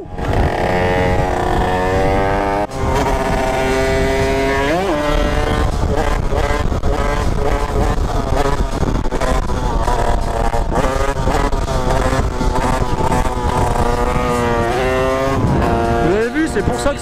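A Derbi motorcycle engine revs loudly and steadily, pitch rising and falling through repeated throttle blips, with some wind and faint voices underneath.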